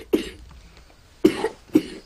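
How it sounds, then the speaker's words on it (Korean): Three short, dry coughs from children, one near the start and two close together later, with quiet pauses between them. "게다가 아이들 기침도 나을 기미가 보이지 않습니다"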